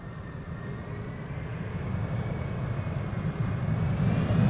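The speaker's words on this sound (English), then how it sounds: "Delta Airlines Flight 74, arriving from Atlanta, Georgia, A330-300, 18-year-old airplane" A Delta Airlines Airbus A330-300 airliner, 18 years old, arriving from Atlanta lands at Amsterdam Schiphol, its low engine rumble building steadily from the distance and growing louder near the end, with no talk.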